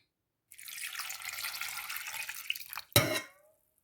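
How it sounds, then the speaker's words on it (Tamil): Water running steadily into a pot of cut cassava pieces for boiling, a close stream lasting a couple of seconds that ends in a short, sharp splash before fading to quiet. "இப்போ நான் இதுக்கு தண்ணி விட போகிறேன்"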